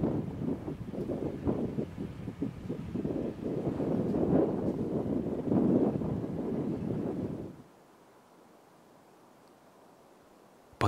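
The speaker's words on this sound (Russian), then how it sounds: "Сильный порывистый ветер гнул тонкие макушки остроконечных елей" Strong, gusty wind roars through a spruce forest, buffeting loudly for several seconds, then suddenly drops away to near quiet.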